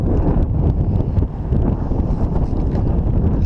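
Strong, steady wind buffets the microphone on a lake while catfish fishing, a loud, continuous low rumble and roar with no pauses and no talking.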